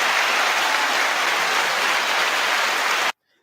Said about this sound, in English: Come, clap him, clap him, clap him.